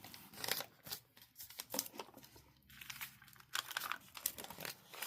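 Close, dry crinkling and scraping of metallic foil being worked on a junk journal page. The irregular bursts come in short, quiet strokes, with no talk.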